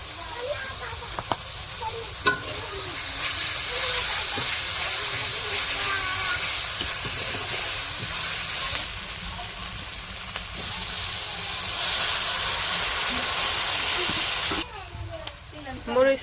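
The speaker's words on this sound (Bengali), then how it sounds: "পেঁয়াজগুলো হালকা ভাইজা নিচ্ছে, এখন হচ্ছে আদা আর রসুন বাটা দিয়ে দিতেছে" Onions fry in a pan as ginger and garlic paste goes in during a village home cooking session, a loud continuous sizzle and hiss with scraping stirs, swelling after the paste is added, then cutting off near the end.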